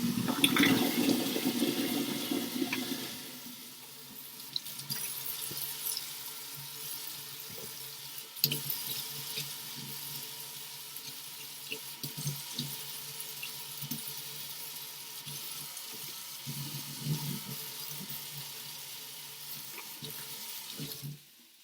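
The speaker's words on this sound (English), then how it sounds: "I'm going to wash my knife while I'm waiting and get rid of my eggshell." A kitchen sink tap runs while a knife is washed under it, a steady close water rush with a louder splash at the start and small clinks and handling sounds throughout.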